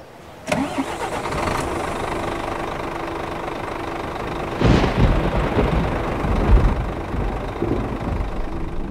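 A bus engine in Euro Truck Simulator 2 cranks and starts with a sudden catch, then settles into a loud, steady diesel idle with a brief rev midway.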